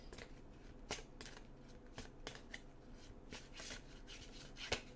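Tarot cards being shuffled and drawn by hand, a quiet steady riffle of papery slaps and swishes with sharper snaps at intervals, close and soft, no voices.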